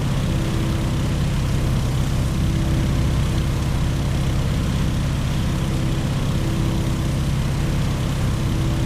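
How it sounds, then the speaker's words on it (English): A Stearman open-cockpit biplane in the flight simulator Microsoft Flight, its propeller engine droning steadily and evenly throughout, close and loud with no pauses or talk. "here's where the steerman really shines. It's a nice, docile airplane with an open cockpit"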